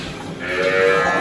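A single dairy cow on a Brazilian farm moos once, fairly close and clear, a low drawn-out call.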